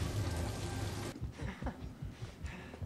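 Steady rain falls in a scene from a House of the Dragon season 2 episode, a dense hiss at first that drops to softer, patchy patter with scattered drips and low thuds.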